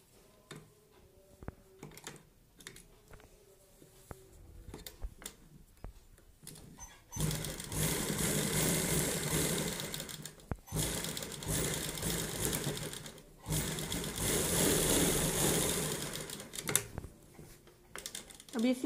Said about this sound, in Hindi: अब इसी तरह इस साइड की भी सिलाई लगा लेंगे।